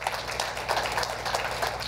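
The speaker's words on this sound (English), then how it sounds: "Let's give him a round of applause, actually, guys." An audience at a live talk applauds a man, a dense, steady wash of clapping that holds at an even level for the whole stretch.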